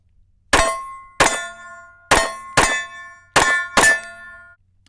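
Glock 43 pistol fitted with a KT Crafts compensator fired in three controlled pairs, six sharp loud reports spaced in twos with short ringing decays and no talking.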